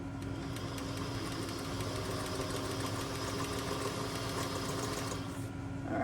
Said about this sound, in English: So let me just sew this on this black cloth so maybe you can see it.